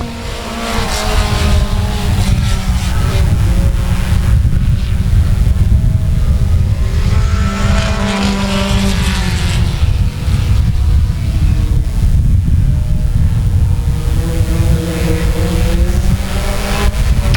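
Race cars roar around the South Texas Speedway oval in the closing laps, a loud, continuous engine drone with shifting pitch as cars pass, wind buffeting the microphone throughout.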